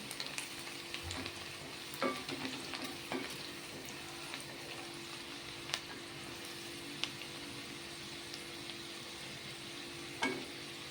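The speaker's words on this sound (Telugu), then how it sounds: "కొంచెం ఉల్లిపాయ ఎర్ర వండుతాం" Onions sizzling in hot oil in a pan for a chicken curry, a steady close crackle with a few sharp clicks of stirring, no talk.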